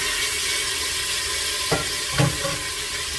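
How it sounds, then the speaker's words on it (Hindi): Potatoes go into a frying pan with spices and green chillies, under a constant loud hissing sizzle, with two brief soft thumps or stirs near the middle and no talking. "तो अब मैं इसमें आलू भी डाल दूंगी"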